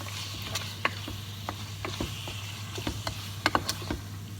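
Beef and white beans cooking over high heat in a pan, a low hiss with a steady hum underneath and intermittent clicks and utensil taps, fairly quiet and near, without speech.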